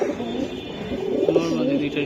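Giribaj flying pigeons coo steadily nearby, a continuous low burbling under someone talking throughout.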